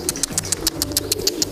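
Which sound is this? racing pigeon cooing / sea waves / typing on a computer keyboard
racing pigeon cooing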